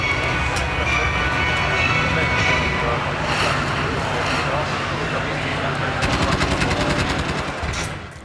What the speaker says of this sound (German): denn auch wir können helmlose Fahrzeuge benutzen und damit verbundene stationäre Maschinengewehre.